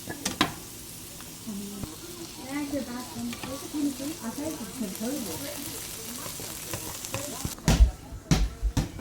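Peppers and onions cook in a pan with a steady soft sizzle and occasional stirring, under intermittent talking, with a few sharp thumps near the end.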